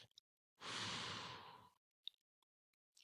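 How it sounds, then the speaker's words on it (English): A long exhale pushing all the air out through the mouth during a guided breathing exercise, one close, breathy sigh of about a second, followed by faint small clicks. "let all the air out through your mouth."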